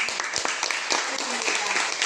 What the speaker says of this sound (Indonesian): Tepuk tangan untuk Madalena